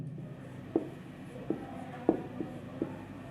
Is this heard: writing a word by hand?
yes